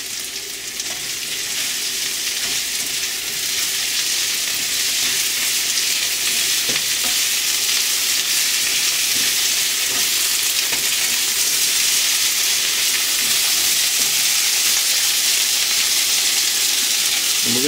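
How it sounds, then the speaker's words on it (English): Okra frying with onions in a kadai, a loud, steady hiss and sizzle of hot oil that continues throughout, with occasional soft stirring clicks and scrapes close by, no talk. "I'm going to dump our okra in."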